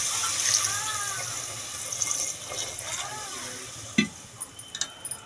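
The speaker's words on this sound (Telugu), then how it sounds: "కొంచెం వాటర్ యాడ్ చేసుకోవాలి." Water is poured into a pan of drumstick curry, which is then stirred, giving soft splashes, a faint sizzle and brief scraping knocks against the pan at close range.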